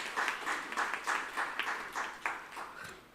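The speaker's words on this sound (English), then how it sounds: "So big round of applause to Mr." A small audience at a social leadership conclave and awards event gives Mr. Chatterjee a round of applause, fairly faint and thin, with distinct individual claps pulsing irregularly before fading out.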